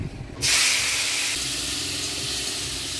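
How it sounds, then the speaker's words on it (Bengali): Turmeric- and salt-rubbed fish pieces go into hot oil in a village kitchen, setting off a sudden loud, hissing sizzle that holds steady and close without voices. "এবার তেল গরম হয়ে গেছে, এবার মাছগুলো দিয়ে দেবো।"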